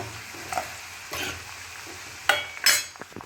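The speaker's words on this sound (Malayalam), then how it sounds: "നമുക്ക് നന്നായിട്ട് ഇളക്കി അത് മൂപ്പിക്കാം." Curry leaves and other ingredients frying in hot oil in a pan and being stirred, with a soft sizzle under a few clinks and scrapes of a spoon against the pan, close.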